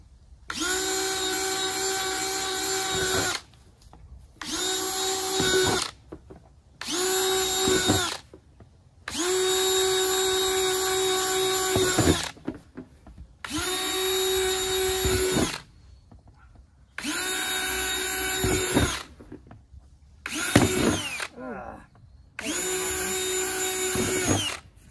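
A power drill bores holes into the wooden lid of an old freezer: eight loud, close whining bursts of a few seconds each, separated by short quiet pauses, with no talking.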